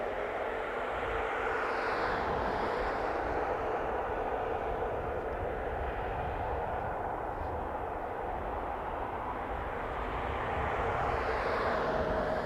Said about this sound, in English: First one headed to Vancouver, flight 605. 737 MAX 8.